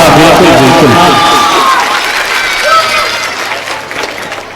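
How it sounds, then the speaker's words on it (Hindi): Audience applause and cheering at a Hindi mushaira poetry recital, a dense burst of clapping from a large crowd that fades slowly over several seconds, with voices mixed into it. "बच्चे अगर सुनना चाहते हैं तो ताली बजा करके बताएं।"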